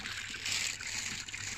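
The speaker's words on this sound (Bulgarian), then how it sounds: "И сега ще се нашляпка във водата." An animal splashes in cold spring water at a mountain rest spot, giving a steady close trickling and sloshing wash that swells briefly midway, with no talk.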